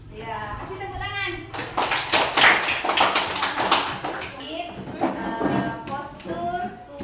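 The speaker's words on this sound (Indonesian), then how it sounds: "Ya, kasih tepuk tangan." A class of students clapping their hands together, a burst of sharp, fairly loud claps in the middle, with a teacher and children talking before and after.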